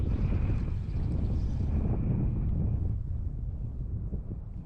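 Strong wind gusts across a lake on a bass fishing outing, a loud rumbling roar buffeting the microphone without pause, easing slightly toward the end.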